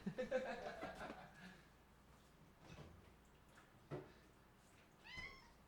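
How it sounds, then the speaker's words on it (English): A house cat meows several times, soft and fairly distant, with a clearer rising meow near the end, heard over low room noise and faint background chatter. "That's my cat."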